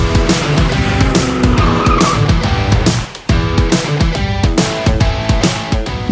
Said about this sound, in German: es qualmt an den Hinterrädern, wenn man reinranzt